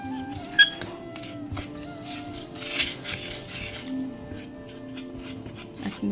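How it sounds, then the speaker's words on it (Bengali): Homemade sindoor powder is stirred and mixed with rose water in a small bowl, giving soft scraping and rubbing with occasional light clinks of metal on the dish, quiet and close. "গোলাপ জলটা দিয়ে কিন্তু আবার সুন্দর করে মিশিয়ে নিতে হবে।"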